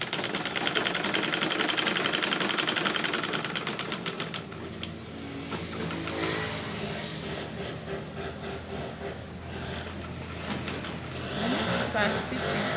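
A sewing machine stitching the side seam of a dress, a rapid loud mechanical whirr that runs steadily for about four seconds then stops, followed by fabric handling and quieter clicks, with a person talking over it.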